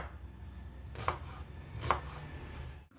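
Carrot and onion crushed together in a kitchen chopper for Kerala-style carrot thoran. Two quiet, distinct crunching thumps about a second apart sit over a faint hum.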